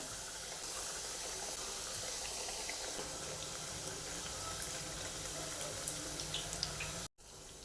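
Steady, soft bubbling hiss of spicy puris deep-frying in hot oil, continuous throughout with a few faint crackles and a brief gap near the end.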